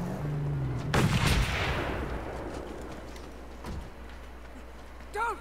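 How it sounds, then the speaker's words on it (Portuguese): A single loud gunshot booms in the Mad Max video game, its blast decaying over a second or two amid desert ambience, followed later by a fainter distant shot and a brief voice. "eu tenho que saber de onde tá vindo esse tiro"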